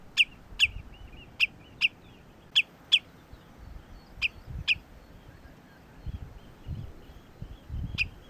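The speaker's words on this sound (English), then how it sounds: "A noisy redshank, probably just warning its chicks that there's a car around." Sharp, high-pitched redshank alarm calls repeat about a dozen times at irregular intervals on moorland, loud and fairly close, with low rumbling noise underneath.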